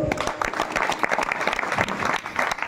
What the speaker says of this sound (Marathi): आमच्या चोपदार दादा बाबांसाठी एकदा टाळी वाजव